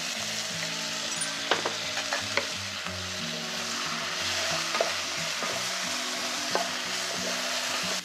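Bamboo shoots and shiitake mushrooms stir-frying in a wok with soy sauce added, a steady broadband sizzle with a few sharp utensil clicks and scrapes throughout, close and continuous.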